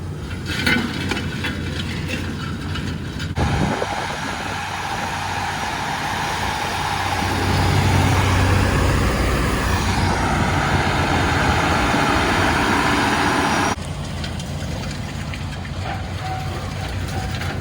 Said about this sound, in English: a 460 horse tractor on a 30-foot disc is a little bit of overkill